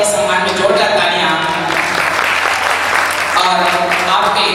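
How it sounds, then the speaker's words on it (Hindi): Loud, sustained applause from an audience honoring a guest at a Mahaveer Jayanti gathering in Kailash Nagar, a dense unbroken clatter of clapping hands that fills the whole stretch. "मैं चाहूंगा कि एक बार उनके सम्मान में जोरदार तालियां"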